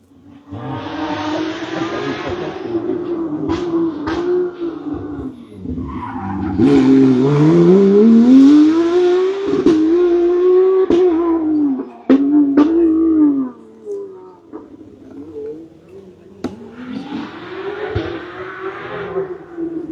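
A Porsche rally car on a special stage at the final of the Rallyes in Lisieux, Normandy, its engine rising and falling through gear changes as it passes close by, loud and sustained with tyre noise and a louder peak mid-pass.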